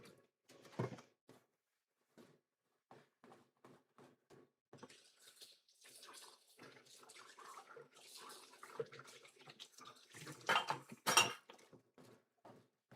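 A pot with homemade snack-cake batter or filling on very low heat is opened and stirred, giving scattered metallic clinks and scrapes of utensil against cookware, with a louder clattering burst near the end.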